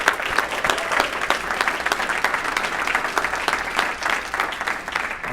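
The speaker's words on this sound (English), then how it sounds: "can we give a huge round of applause to Andrew and Michelle for doing an incredible job?" Dense audience applause fills a keynote hall, loud and sustained with rapid overlapping claps and a light crowd murmur, continuous for several seconds.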